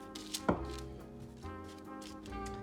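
A knife cuts through glazed apple turnover pastries, giving a sharp thunk against the board followed by a few softer taps and slicing sounds, close and fairly quiet.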